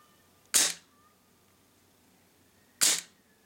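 A Sig Sauer X5 P226 CO2 blowback airsoft pistol fires two sharp, loud cracks about two seconds apart, shot from the hand over a chronograph with 0.2 gram BBs, quiet in between.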